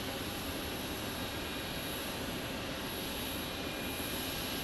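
WestJet Boeing 737 Max 8 jet at Phoenix Sky Harbor International Airport, a steady broad engine roar that holds at an even level throughout with no voices.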